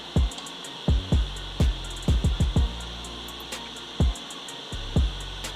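A heat gun blowing steadily onto the shoulder of a bottle, a constant airy whoosh under a series of loud, irregular low thumps and knocks.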